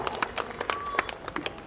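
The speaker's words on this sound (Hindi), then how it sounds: "एक बार जोरदार तालियों मित्रों." Scattered applause from an audience at a railways jobs seminar, with irregular clapping bursts at moderate distance and a faint tonal whistle partway through.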